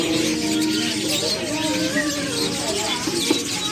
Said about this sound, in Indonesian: Burung.